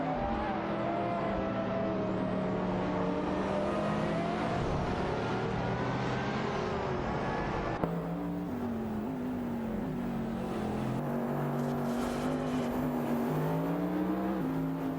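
Race cars in a racing video game roar around the track in a steady, loud engine drone, pitch rising and shifting as they jostle closely, with a sudden change in tone about halfway through.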